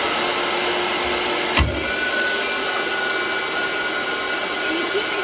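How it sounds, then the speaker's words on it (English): A vacuum forming machine used to make custom whitening trays runs with a steady loud whirring hum, a sharp clunk midway as it engages, then keeps droning evenly. "I'm going to turn the vacuum on."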